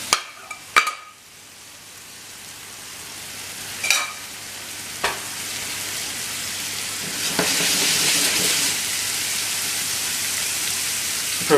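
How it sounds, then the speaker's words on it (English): Bacon frying in a pan with no added fat, a sizzle that swells into a continuous hiss after a few sharp clatters and clicks at the start. "We can probably put the bacon in now."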